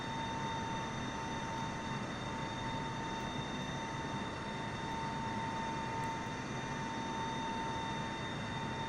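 Boeing 747 engines at full power in level flight in Microsoft Flight Simulator, a steady broadband roar with a constant whine on top, unchanging and unbroken throughout, with no voices.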